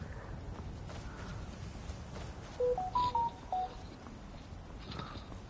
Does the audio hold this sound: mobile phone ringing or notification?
yes